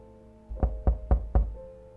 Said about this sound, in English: Just as the sun began to set, there was a knock on my door.